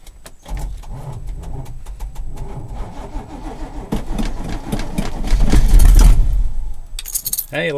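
Keys jangle before a GMC 2500 pickup truck's cold engine cranks and catches, then revs loudly and settles toward a rough idle, close and prominent.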